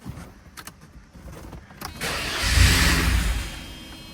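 A Mercedes 190E engine cranks on starter fluid, a starter whirring in short bursts before a louder, broader roar as the engine tries to catch, close by with no talking.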